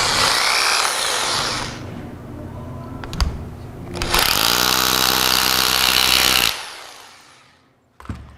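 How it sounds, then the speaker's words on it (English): A power drill bores a hole for a wall anchor in close bursts: a loud whine, a pause with small clicks and knocks, then a second longer grinding run that stops sharply, followed by a faint knock. "I do need to drill the hole for it, don't I?"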